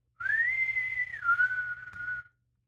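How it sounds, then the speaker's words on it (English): A single high, sustained wailing tone glides upward, holds, then dips slightly, sounding like a processed voice turned into an eerie scream, alone over a low rumble. "Kind of this banshee scream."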